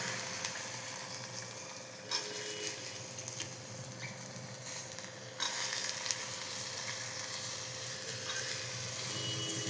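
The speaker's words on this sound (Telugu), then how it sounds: "దీంట్లో నేను ఇప్పుడు బాగా కడిగి పెట్టుకున్నటువంటి బఠానీలను వేస్తున్నాను." Washed peas going into a sizzling tomato curry with drumstick, a steady, fairly faint frying hiss throughout, slightly louder after a couple of soft bumps, with no voices.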